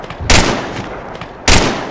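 Automatic grenade launcher fire in the Arma 3 military shooter game, heard as two loud, sharp bursts about a second apart, each trailing into a rumbling decay, with no voices over them.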